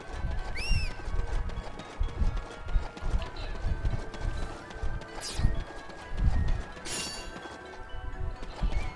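A horse gallops in Samurai Warriors, with rapid rhythmic hoofbeats close up, mixed with battle clashes and a short whinny, loud and continuous.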